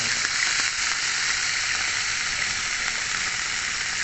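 Beef tapa sizzles steadily in a hot pan, a close, even crackle of frying that continues without pause and with no voices.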